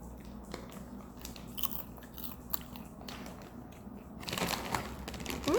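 Close-up chewing of crunchy Sour Patch Kids popcorn, a steady run of crunching and biting that grows louder toward the end, with no talking.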